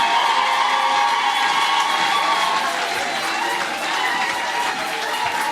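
A church congregation at a Sunday worship service applauds and cheers, a dense, steady wash of clapping with voices and whoops mixed in, loud and close throughout.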